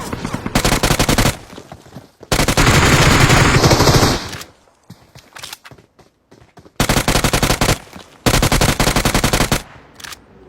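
Rapid automatic gunfire in the battle royale mobile game BGMI, loud sustained bursts of several seconds each, broken by short gaps and scattered single shots, with no talking over it.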